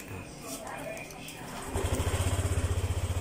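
A Honda Click150 scooter engine fires up after a lost code and remote fix, settling into a close, steady rapid putter at idle, with voices speaking before it starts.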